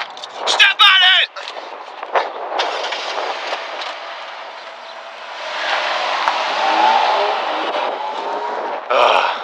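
Car accelerating away, engine roar rising and falling with a long revving sweep, loud and close, mixed with voices and other noise at the start and end.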